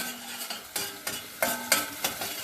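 Tomato paste sautéing in a pan while a spoon stirs it in several distinct, regular scraping strokes over a crackling sizzle, close and fairly loud, no talking.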